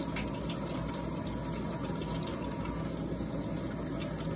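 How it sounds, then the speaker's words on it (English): Water runs steadily from a sink tap as hands are washed, a continuous broadband splashing hiss held at an even level throughout with no talk over it. "I'm gonna wash my hands because you can't be too sure right now"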